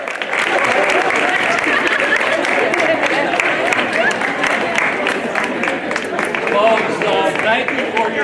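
A crowd applauds steadily at an outdoor Peace Pole planting ceremony, dense continuous clapping from many hands with voices mixed into the noise throughout.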